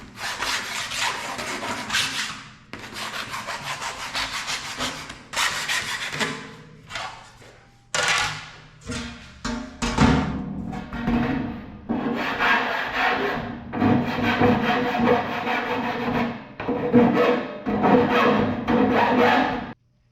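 Thin aluminum is worked with a hand file and wire brush to clear burrs in a fabrication shop, giving repeated scraping, rasping strokes in bursts with short pauses, close and fairly loud.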